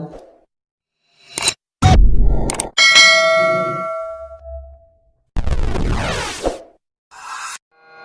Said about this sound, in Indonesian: klik lonceng notifikasi